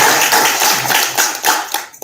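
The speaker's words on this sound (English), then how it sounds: "Give them a round of applause." A round of applause from an audience at a Black History community talk, brisk uneven clapping fairly close and loud before trailing off abruptly at the end.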